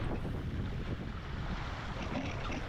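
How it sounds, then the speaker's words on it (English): Strong wind roars across the microphone while windsurfing at speed on open water. A loud, steady broadband rush is mixed with splashing chop and continues without a break and without talking. "I'm just waiting for the wind to lull so that it's not going to be so violent, but the wind is not lulling"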